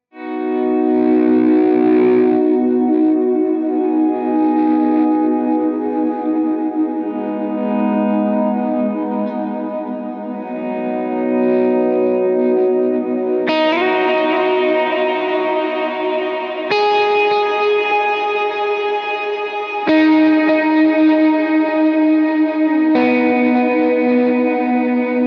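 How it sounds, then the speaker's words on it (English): Slow, swelling electric guitar chords that fade in softly and ring out with heavy reverb and echoing delay, each new chord blooming over the last. "no tremolo for that part, but a lot of reverb and delay. That's the swell tone"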